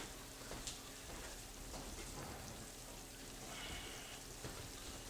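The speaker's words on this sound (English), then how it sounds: "So we're just letting that stay on a simmer" Sauce simmering in a pot gives off a faint, steady bubbling crackle with scattered soft pops, quiet and continuous with no voices.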